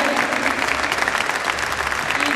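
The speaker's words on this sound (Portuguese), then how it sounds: "Uma salva de palmas para vocês, para eles." Seated audience at a legal discussion panel on the Brazilian prison system gives a round of applause, a dense, lively clatter of many hands at steady loudness, with faint voices underneath.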